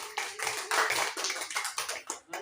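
A small group of students claps for a classmate, Amel, after her classroom practice presentation: a short burst of close, uneven hand claps with a few sharp taps, fairly quiet, no talking.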